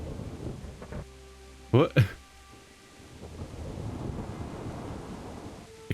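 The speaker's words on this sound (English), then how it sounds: "Oh, that sounds super weird. Like almost like thunder, but not really." Thunder-like weather rumble from the Kingdom Come: Deliverance game, a low rolling drone throughout with a short loud double burst near the start; a person briefly speaks.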